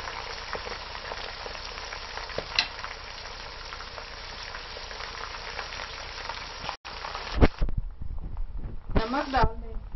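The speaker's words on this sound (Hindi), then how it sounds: "साथ गर्दने भी डाल दें और इकट्ठा ही फ्राई करें" Chicken necks frying together with garlic paste in a pan, a steady close sizzle lasting most of the moment, broken by a brief gap and a few short clatters and a voice near the end.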